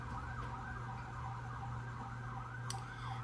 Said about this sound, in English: Ambulance is flying by.